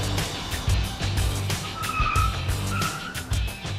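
A Tesla electric car accelerates hard, its tires squealing and scrubbing in repeated short bursts with a low rumble beneath, fairly close.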